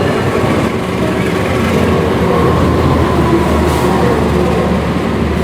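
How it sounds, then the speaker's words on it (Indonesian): The KA Sembrani express rolls into platform 3 at a station in a steady, loud low rumble and rolling roar with no pauses or voices. "Sembrani bakal masuk jalur 3 dan ini udah ada pemberitahuan"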